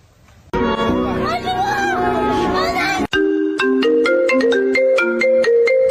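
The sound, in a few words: phone ringtone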